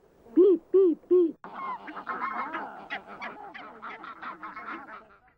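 A voice imitates three loud peeping cries, then a wild goose gosling keeps up a steady stream of high, plaintive chirps and peeps.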